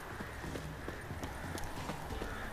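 Horse hooves clip-clopping in The Witcher 3: Wild Hunt, a short run of close, rhythmic hoofbeats over a loud, busy game background.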